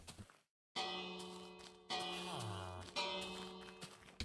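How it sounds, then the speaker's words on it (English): A village bell in Minecraft, emulated on Windows 98, struck three times at roughly one-second intervals, each loud metallic clang ringing out with long sustained overtones after a brief silence at the start. "The bell still works."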